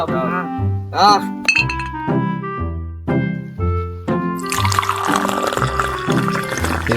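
Drinks poured into glasses at an outdoor gathering, with bright glass clinks and ringing tones, then a rush of liquid splashing in near the end, loud and close.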